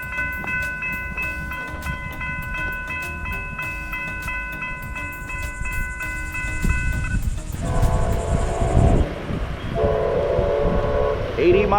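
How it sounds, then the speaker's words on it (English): High-speed train running right through a Florida state park: a long multi-tone horn blast sounds first, then the rumbling roar of the cars rushing past grows louder and closer. "You have a high-speed train that runs right through the park."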